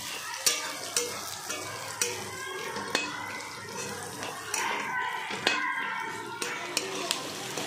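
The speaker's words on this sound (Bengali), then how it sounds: "এবার এটা একটু ভাজা, অল্প ভাজা করেই চিকেনটা যাবে" Ingredients frying in hot oil in a pan before chicken goes in, a steady sizzle broken by sharp spoon-on-pan clinks and scraping stirs at an uneven rhythm, with a voice talking over it.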